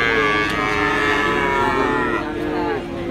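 A Pegon cow at a cattle sale moos in a long, drawn-out low call, close and steady for about three seconds, with faint background murmur.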